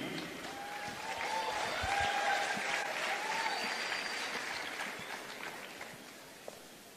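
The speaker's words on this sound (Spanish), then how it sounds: "Recibamos con un fuerte aplauso a nuestra primera invitada de I Love Show 2013" Audience at a stage show clapping to welcome a female guest, with sustained applause that swells and then fades over about seven seconds while faint voices and cheers rise above it.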